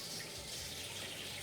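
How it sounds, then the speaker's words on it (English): Cold tap water runs steadily over cabbage in a kitchen sink, a continuous close hiss and splatter with no voices. "we run it under cold running water"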